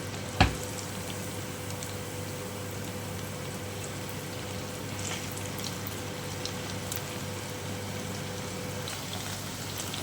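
Sabudana vada fry in hot oil after being turned, a steady close crackling sizzle with one sharp clink near the start and light scattered pops throughout.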